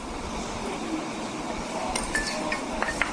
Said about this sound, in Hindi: सबसे पहले हमने आइसिंग शुगर डालेंगे 2 टेबलस्पून